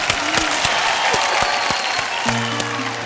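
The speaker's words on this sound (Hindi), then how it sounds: "तालियां प्लीज" Studio audience at a television game show applauding, a steady wash of clapping with a few sharp claps standing out near the front, a sustained musical tone entering toward the end.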